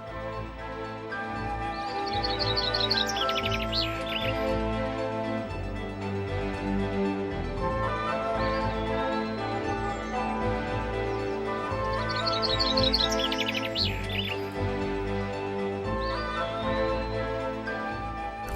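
A finch species from the Azores sings two brief, twittering phrases several seconds apart, faint and high, set under steady, loud background music.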